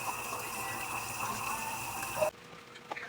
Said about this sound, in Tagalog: nagugas na ako ng plato at para mamaya ay malinis na yung ating lababo